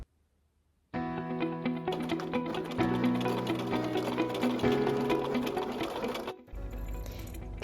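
Sewing machine stitching two fabric pieces along a garment neckline, a steady fast mechanical whir with dense needle clatter, close and loud, running continuously for about five seconds before stopping, with a brief low thump after it ends.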